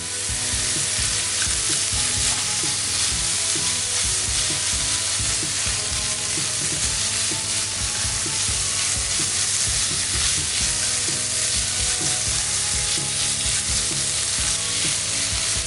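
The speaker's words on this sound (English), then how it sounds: "using the same pan to stir fry the minced pork" Minced pork stir-frying in a pan without oil, a loud continuous sizzle with constant scraping and stirring, close up and unbroken throughout, no voices.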